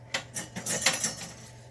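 A big spoon clinks and scrapes against a bowl while mixing chicken salad, a handful of irregular metallic taps and scrapes at close range, with no one talking.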